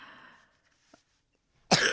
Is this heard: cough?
yes